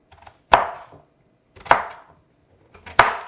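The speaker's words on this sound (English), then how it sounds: "Then we're just gonna cut them in bite-sized pieces." A knife chops potatoes into bite-sized pieces on a cutting board for homemade Japanese curry: three sharp, close chops about a second apart, each with a short wooden knock, and no talking.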